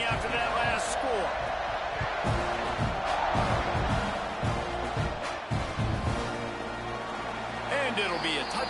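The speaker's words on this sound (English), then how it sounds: "this crowd is buzzing after that last score" Stadium crowd buzzing during an American football video game, a dense steady roar of many voices with bouncing thuds and slams scattered through, under a play-by-play commentator's voice.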